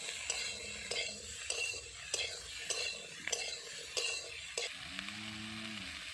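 Chopped tomato fries in a pan with a steady sizzle, punctuated by about ten rhythmic metallic clinks and scrapes of a spoon stirring against the pan, with a faint low hum near the end.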